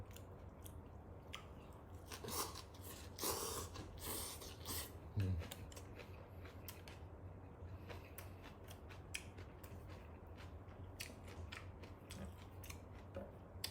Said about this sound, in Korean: 면이 맛있어 갖고 한 잔도 안 먹고 면을 세 입이나 먹네